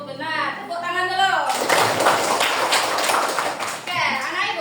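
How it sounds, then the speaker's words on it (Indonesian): Children clap together in a classroom after a teacher's quiz, a burst of brisk clapping lasting a few seconds, with someone speaking before and after. "Tepuk tangan dulu."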